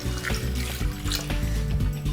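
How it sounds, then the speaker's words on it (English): A glass of water poured into a blender, a short steady splashing pour with liquid sloshing, close and fairly loud, no talking. "I'm going to add to that just a glass of water. Pour that into the blender."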